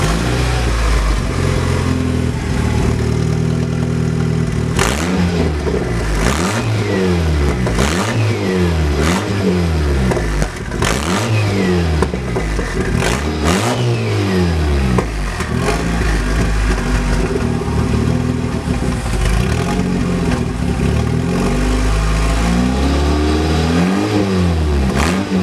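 A Toyota Tacoma truck with a new exhaust revs repeatedly and loudly up close, its engine note rising and falling in rapid cycles of acceleration.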